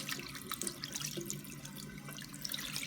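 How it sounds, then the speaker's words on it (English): Water runs steadily from a kitchen or bathroom tap as hands are rinsed after washing with antiseptic soap, a continuous close splashing hiss with small droplet splatters and no talk. "So I'm going to turn off the tap."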